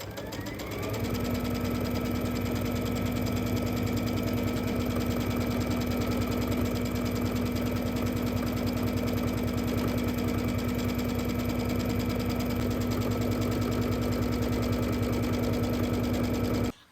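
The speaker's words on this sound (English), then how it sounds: "So just sewing on each of the sides and the bottom." Sewing machine stitching lining and outer fabric pieces together along the sides and bottom, a steady, fast, even mechanical whir with a constant hum, running loud and uninterrupted for the whole stretch before stopping at the end.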